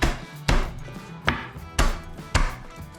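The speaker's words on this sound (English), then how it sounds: "Cloves of garlic, we're just gonna mince." Close, sharp knife chops mincing garlic cloves on a cutting board, five heavy thuds in an uneven rhythm with short gaps between them.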